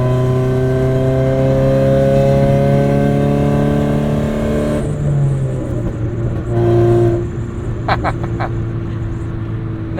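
Engine of a 400,000-mile 1990 Acura Integra RS pulling hard in fourth gear, a steady close-up drone climbing gradually in pitch over about ten seconds, with a few light ticking clicks near the end.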